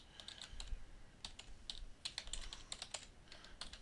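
Rapid, uneven typing on a computer keyboard, close and fairly quiet, with bursts of keystrokes running continuously and no voices.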